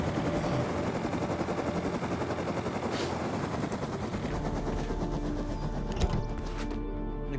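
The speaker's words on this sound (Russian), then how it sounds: "О, реально, коптер." A helicopter in a survival video game drones with a loud, steady rotor chop near the listener, broken by a few sharp impact-like bursts.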